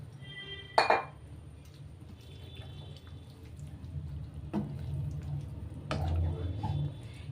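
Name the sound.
stirring chicken bharta with chicken stock in a pan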